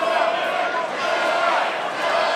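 A boxing arena crowd roaring and getting animated during a fight between Regis Prograis and Jack Catterall, a dense continuous swell of cheering, with a commentator's voice over it.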